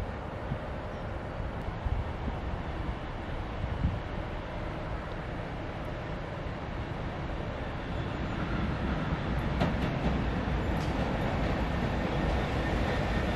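A Class 66 GB Rail Freight diesel locomotive passing on the line between Norwich and King's Lynn, a steady rumbling roar of wheels and engine with wind buffeting, growing slightly louder toward the end.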